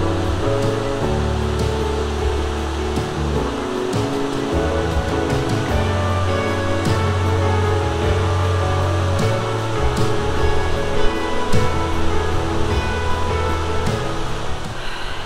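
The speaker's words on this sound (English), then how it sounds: "But take a look at these waterfalls." Waterfalls at a Queensland waterhole pour in a constant rushing roar, a broad, steady wash of falling water heard up close with no talk over it.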